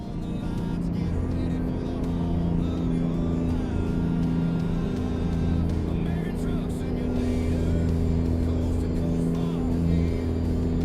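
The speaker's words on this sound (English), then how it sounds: "Engine's super loud." A heavy truck engine in American Truck Simulator, a Ruda Glider 389 hauling cattle, drones loudly and steadily with strong low harmonic bands throughout, its pitch barely shifting, over faint background chatter.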